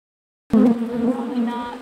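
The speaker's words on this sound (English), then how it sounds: "For at least 1 year, bees have been working inside Jeanette Burdett's storage shed to build thi" After a moment of silence, a close buzz of bees at a hive starts abruptly and drones on steadily, a dense humming like a swarm.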